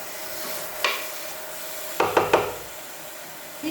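Chicken stirred with curry powder in a pot: a few soft scrapes and clacks, one near the start and a quick cluster of three later, over a faint sizzling background.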